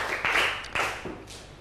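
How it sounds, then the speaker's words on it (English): Students clapping in unison in a Grade 7 maths classroom: a short run of sharp, evenly spaced group claps, moderately loud, with no talk over them. "Let us give ourselves 5 big claps."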